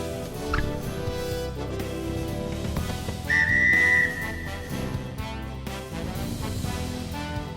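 Referee whistle in the basketball video game NBA 2K, a single short shrill blast over constant crowd and arena noise.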